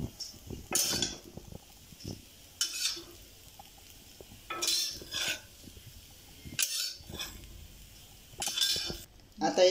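Dry bitter gourd bhaji scraped and transferred onto a plate with a metal spoon, several distinct scraping and clinking strokes in a steady rhythm, close and moderately quiet.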